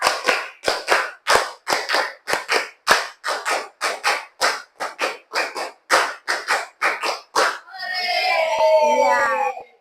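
A classroom of children claps together in a tight rhythmic pattern, about twenty sharp, evenly spaced claps, followed by a loud burst of the children's voices.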